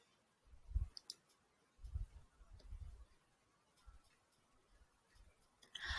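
A computer mouse clicking while an assignment is submitted in Google Classroom: a few faint, sparse clicks and small handling taps scattered across a quiet background.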